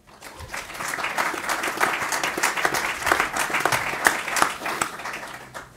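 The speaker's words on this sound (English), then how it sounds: "Give him a round of applause" A small crowd applauds at a sailing Grand Prix press conference in Christchurch, New Zealand, with sparse, crisp individual claps building into moderate applause that continues steadily throughout, heard close without talk.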